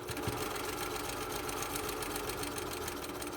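A sewing machine stitching fabric pieces onto an Olson mask runs in one steady, continuous whir with a fast even stitching rhythm throughout, fairly close and moderately loud, with no voices over it.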